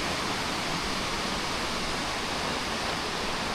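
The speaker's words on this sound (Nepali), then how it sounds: "यता बगिरहेको यो चमेलिया नदी" The Chameliya river flows in a hill valley on the Api trek, a steady broadband rush of moving water heard alone, with no voices and an even, constant level.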